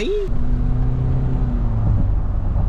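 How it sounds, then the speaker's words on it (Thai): A stock Mitsubishi Mu-X engine revs as the car accelerates from inside the cabin, a steady low drone with rising pitch, beginning after a brief short sound at the very start. "มาไปลองขับกันดูฮะว่าเดิมเดิมเนี่ยมันอืดขนาดไหน"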